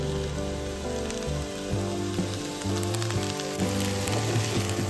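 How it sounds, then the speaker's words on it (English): Cut ivy gourd hitting hot oil in a pan, a dense continuous sizzle close up, steady and even, with a low tonal hum running underneath. "Add the ivy gourd."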